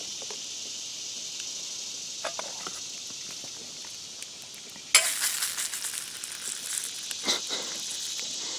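Breakfast with eggs sizzles on a griddle, a soft steady hiss that jumps louder around the midpoint as a lid is lifted, with scattered light clicks and taps over it.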